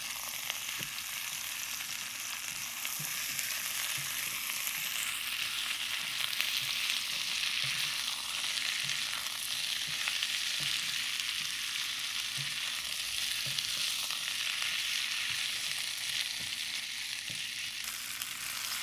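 Green onions and regular onion fry in a pan with a steady, dense sizzle that holds at an even level throughout, with faint stirring scrapes now and then.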